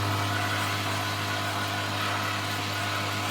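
An air compressor runs with a steady low mechanical hum and vibration, continuous and fairly quiet, beside a scroll saw workshop.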